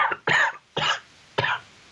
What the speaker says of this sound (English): I've got to blow this nose out here